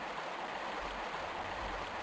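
Steady rushing water current in a Tomb Raider game level, a continuous broadband stream with low rumbling swells, heard alone.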